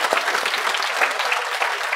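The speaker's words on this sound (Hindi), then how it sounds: "एक बार जोरदार तालियां सब लोगों के लिए" Students in a classroom during a law lecture break into brisk, continuous applause, moderately loud and close, lasting the full two seconds.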